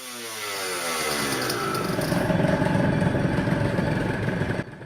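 A Honda NSR 250 two-stroke motorcycle, built between 1987 and 1999, runs its engine with a steady buzzing, ringing note that swells as it revs, loud and close, with no voices.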